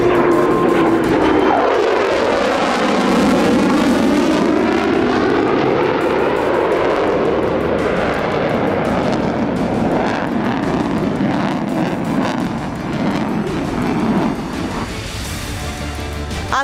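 A Chinese J-50 sixth-generation fighter jet flying overhead, a loud continuous engine roar that swells and sweeps in pitch as it passes, heard alone.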